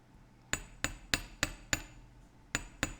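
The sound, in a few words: hammering metal wire to work harden it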